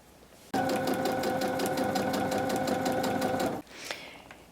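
A sewing machine stitches binding onto a quilt in one steady, loud run of rapid, even needle strokes for about three seconds, then stops, followed by faint handling noise.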